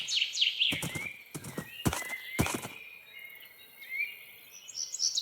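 A video game horse whinnies and neighs with hoof clip-clop, close and clear, with faint bird calls in the background.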